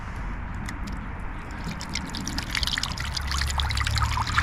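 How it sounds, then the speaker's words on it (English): Water trickles and pours into an outdoor heated bird bath, a soft steady splashing that grows slightly fuller and louder toward the end, with no talking. "So let's fill it up with water."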